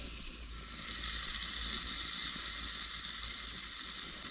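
Steak fat sears in a pan over a camp stove, a steady, fairly faint sizzle holding constant with a low rumble beneath and no talking.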